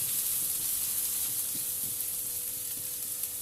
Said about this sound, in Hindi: बस ये है कि इसको हमने थोड़ा सा सोते करना है और हल्का सा पिंक हो जाए